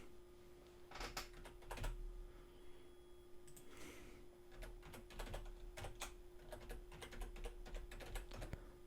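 Keys clack on a computer keyboard while a contact form is filled in, in bursts of quick, close taps with short pauses under a steady low hum and no speech.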